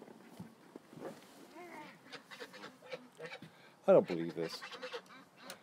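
Ducks honk and quack nearby, in scattered calls with one louder burst, mixed with a person talking over them.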